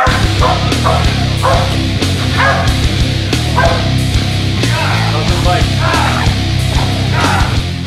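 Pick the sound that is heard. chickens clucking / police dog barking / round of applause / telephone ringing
police dog barking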